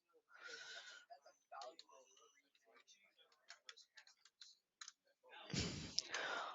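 Keys tapped on a computer keyboard, entering a command while configuring a network switch; quiet, irregular clicks in short bursts, close up and mostly alone with faint breathy sounds.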